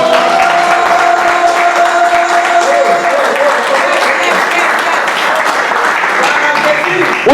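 A church congregation bursts into sustained applause and cheering, loud and continuous throughout, with voices mixed into the clapping.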